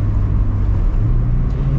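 A 2023 Mazda Miata RF with a manual gearbox and naturally aspirated four-cylinder engine pulls from inside the cabin, a loud, steady engine drone whose pitch steps once partway through as it shifts.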